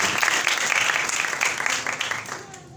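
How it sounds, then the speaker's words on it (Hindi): A church congregation claps loudly and energetically in sustained, dense applause that fades slightly toward the end, with voices faintly mixed in. "खुदा के जलाल के लिए जोर से तालियां बजाएंगे, जोर से तालियां बजाएंगे"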